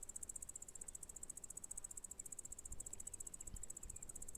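A grasshopper from the Barrocal region of the Algarve sings a steady, rapid, high-pitched pulsing trill that runs unbroken and fairly faint throughout, with no voices.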